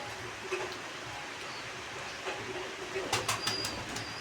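Pigeons in a loft in Thakurnagar, West Bengal, kept as breeding pairs, give soft, faint cooing against a quiet background, with a few brief flutters and sharp clicks toward the end.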